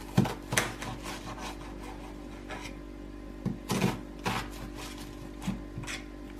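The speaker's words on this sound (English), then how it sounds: "Now your next step is to cut the onion." A knife slicing through an onion on a wooden cutting board, heard as a few soft, scattered chopping taps and rasps at close range, with quiet pauses between cuts and no talking.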